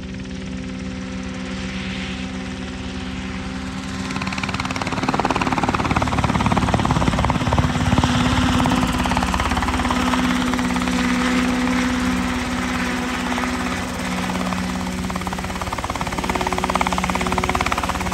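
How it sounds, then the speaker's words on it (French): A Class 6 helicopter flies with a continuous, loud rotor thrum and engine whine. The sound grows fuller and nearer about a third of the way in, then holds steady with no speech. "le Class 6, l'hélicoptère Class 6 de Julien."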